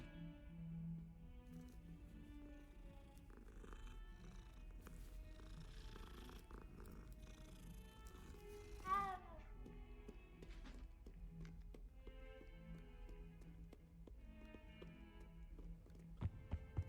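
A cat in the video game Hogwarts Legacy purrs with a low, steady rumble throughout, joined by a single short meow midway, all quiet and heard without speech beneath soft game ambience.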